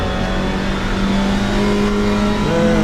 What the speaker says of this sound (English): See how that Porsche pulls away under power.